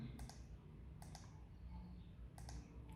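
Numbers are typed on a computer keyboard as a few sharp key clicks, spaced out in small clusters, under a low steady background hum.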